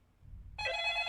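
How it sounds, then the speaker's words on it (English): A telephone ringing in the VR horror game Crawl Space 2, a bright electronic ring starting abruptly after a low rumbling ambience and sustaining loudly. "Oh, it's the phone call."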